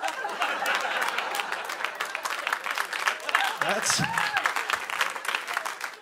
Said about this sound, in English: Thank you for clapping at that.